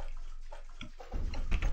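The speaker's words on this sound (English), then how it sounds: "Oh, there's water." Water sloshes and splashes in the horror video game Alisa: The Awakening, a short burst of liquid movement that swells louder toward the end.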